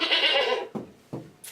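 Goat bleats in a repeated sound effect: one long wavering bleat followed by two short, sharp calls, up close and clear with no talking.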